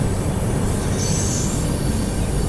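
A Tirupati–Puri Express LHB passenger train runs at speed just after leaving Nellore, giving a loud, constant rumbling roar with a thin high wheel squeal rising briefly midway.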